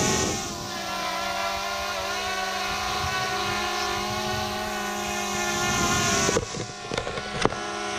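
A small drone lifts off and flies in Ninh Binh, Vietnam, its motors producing a loud, close, steady harmonic whine that holds for about six seconds before fading amid a few knocks and rustles.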